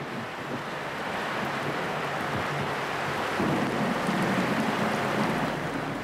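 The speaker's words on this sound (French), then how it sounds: "L'orage éclate et les trombes d'eau qui s'abattent sur la mer enveloppent soudain le Club Med 2 d'un épais rideau opaque." A tropical thunderstorm unleashes a torrential downpour over the sea around the cruise ship Club Med 2, a dense, steady roar of rain and wind with low rumbling underneath, growing slightly heavier midway.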